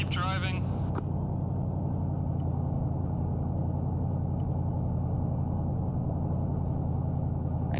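Military vehicle driving in Arma 3, a steady low engine drone and rumble continuing throughout, close and even, with a brief radio-style voice at the start.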